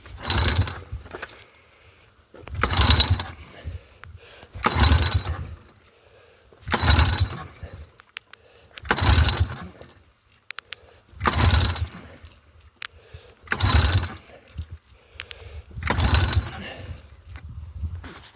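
Someone makes repeated pull-start attempts on a Polaris quad's two-stroke engine. About eight rhythmic bursts come roughly two seconds apart, and the engine never catches.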